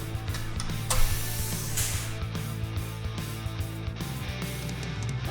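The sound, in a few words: flanging tool crimping the edges of a Camaro frame rail patch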